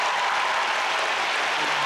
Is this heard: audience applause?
yes